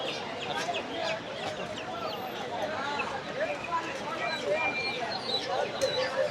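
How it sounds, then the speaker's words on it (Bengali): Local deshi chickens cluck and squawk repeatedly at the busy Tongi poultry market in rural Bangladesh. The close, overlapping calls mix with the murmur of people talking in the background. "এপাশে সবই দেশি মুরগি দেখতে পাচ্ছি।"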